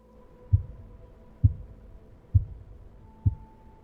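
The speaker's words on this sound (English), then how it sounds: "So now every 3 seconds you will hear a heartbeat." A heartbeat effect from an Unreal Engine 5 game plugin, four evenly spaced low thumps about a second apart, each a soft double beat over a faint steady hum, clear and alone.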